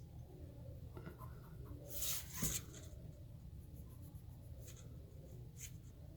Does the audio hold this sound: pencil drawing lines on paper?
yes